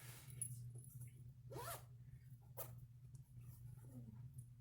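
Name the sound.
zipper on a handmade project bag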